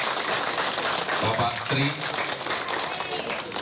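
Audience applause at a free nutritious meal kitchen inauguration in Jati Asih, Bekasi: a steady wash of clapping runs throughout, mixed under someone speaking over a loudspeaker.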